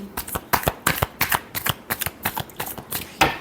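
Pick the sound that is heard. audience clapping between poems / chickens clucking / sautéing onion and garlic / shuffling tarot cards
shuffling tarot cards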